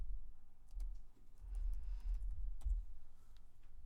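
Someone types a number on a computer keyboard at a pharmacy workstation, with a short run of faint, quiet key taps over a low background hum.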